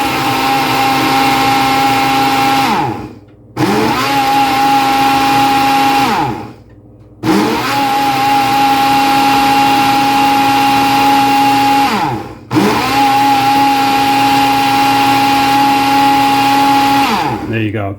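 A BLACK+DECKER FusionBlade personal blender crushes frozen fruit and ice in loud, steady whirring bursts of several seconds each, with short pauses where the motor stops before restarting.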